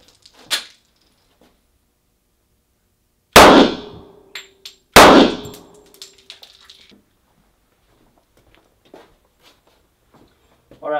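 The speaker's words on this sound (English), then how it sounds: "we're gonna be shooting a 45 230 grain FMJ, and I'll be shooting an XD Mod 2." Two loud, sharp gunshots from an XD Mod 2 pistol firing .45 230 grain FMJ rounds strike a bulletproof vest, each a close crack with a ringing metallic clang, preceded by a smaller knock and followed by faint handling noises.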